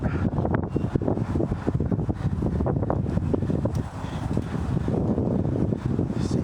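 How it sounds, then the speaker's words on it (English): Strong wind blows steadily outdoors, buffeting the microphone with a constant low roar and gusting rumble that runs the whole time, with no voices. "It's a little windy out."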